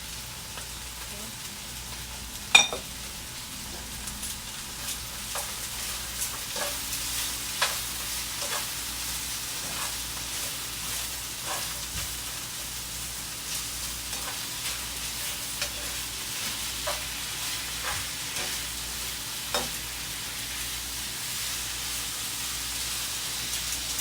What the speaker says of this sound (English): mix all together. It can actually look like a stir fry